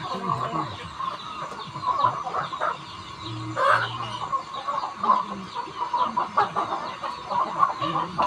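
Chickens cluck steadily on a small farm as feed is scattered, with many birds close by, overlapping calls and occasional louder squawks throughout.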